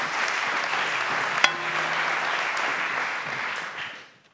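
Audience applause at a business conference as a guest is welcomed on stage: steady clapping from a crowd that holds evenly, then fades out over the last second.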